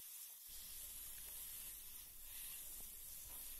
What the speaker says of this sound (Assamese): আলুখিনি বিলাহীখিনিৰ সৈতে ভালদৰে লৰাই এনেকৈ ভাজি ল'ম।